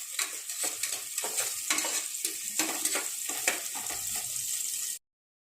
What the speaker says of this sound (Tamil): வெங்காயம் நல்லா பொன்னிறமாக வதங்கி வரட்டுங்க.